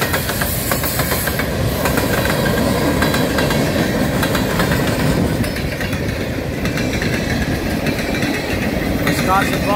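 A CN manifest freight train rolls past steadily and loud, boxcars and hopper cars clattering with rail hiss and wheel clicks, while people talk over it.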